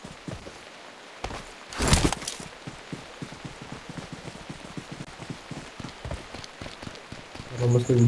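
Steady rain patters across the scene in the mobile battle-royale game PUBG Mobile, a continuous hiss with a brief louder burst of other game sounds near the start.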